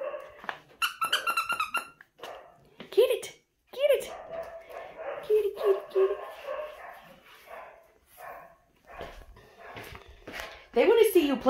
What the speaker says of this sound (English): you hear those doggies out there?